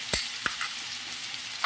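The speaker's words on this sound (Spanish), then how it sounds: "Esta grasita va a hacer ruido, va a botar, tengan cuidado. Vamos a agregar nuestra cebolla finita y nuestro ajo bien picadito." Finely chopped onion and minced garlic sizzle softly in hot bacon fat and butter in a pan, a low steady frying hiss broken by a few sharp stirring clicks and pops, with no voices.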